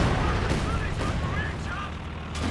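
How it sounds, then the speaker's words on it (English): Heavy mortar strike in Company of Heroes 2, a World War II strategy game, rolling explosive thumps and scattered gunfire over a noisy battlefield bed, moderately loud with a sharper blast near the end. "Heavy mortar strike out the back again though."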